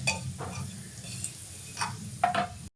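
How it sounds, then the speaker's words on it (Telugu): Vermicelli fries in ghee in a pan, a soft steady sizzle underneath with a few scraping stirs and light clinks of a spoon against the metal, heard close up without talk. "ఒక కప్పు సేమియా తీసుకున్నాను ఫ్రై చేసుకుందాం"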